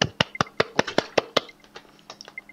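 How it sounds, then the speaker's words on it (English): Soft, slow golf claps during an online UNO multiplayer game, about eight evenly spaced claps at close range that thin out into a few fainter taps. "Why are the golf claps louder on her"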